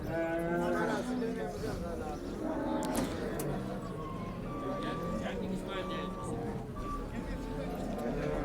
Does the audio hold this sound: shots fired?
no